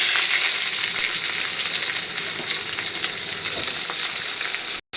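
Chopped onion frying in hot oil with mustard seeds in a pan over a low gas flame, a steady bright crackling sizzle throughout, loud and close, cutting out briefly just before the end.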